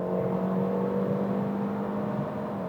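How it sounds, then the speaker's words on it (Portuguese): A Mercedes-Benz CLA 250 (2022) with a 2.0 engine, heard from inside the cabin as it accelerates hard toward 120 km/h: a steady, loud engine drone with a sustained low tone and no talk. "E agora vamos pisar tudo até 120, vamos ver?"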